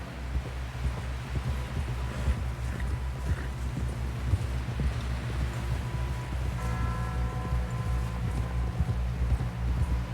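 Horse hooves gallop in a fast, steady rhythm throughout, close and continuous, with a low rumbling background beneath them, in the video game Red Dead Redemption 2.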